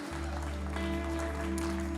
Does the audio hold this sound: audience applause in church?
yes